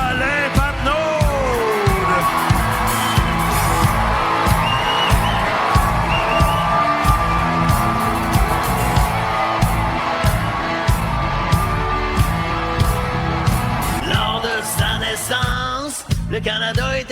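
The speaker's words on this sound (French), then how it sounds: "je veux un torrent d'applaudissements" Loud, sustained applause and cheering from a live concert crowd for a band's guitarist, with whoops and rhythmic clapping running steadily for the full stretch and a brief surge near the end.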